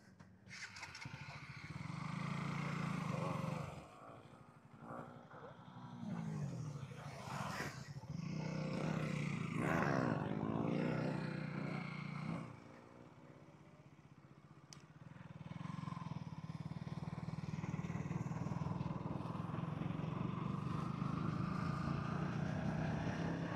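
Motorcycles, including a 390, are ridden on a bypass road by riders pulling wheelies, with engines rising and falling as they pass, some revving loud and near, others fading into the distance.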